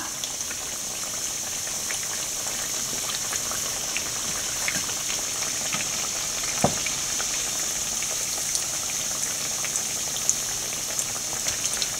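Chicken cutlets frying in oil, heard as a steady, fine bubbling sizzle with scattered small pops and one sharper crackle midway, continuous and moderately close with no speech.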